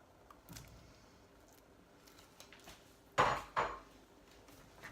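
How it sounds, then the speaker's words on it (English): Goose meat is stirred in curry sauce in a pot, with faint scraping and then two sharp metallic clanks of a utensil against the pot near the end, close by. "we're just going to give it a quick mix up in this sauce"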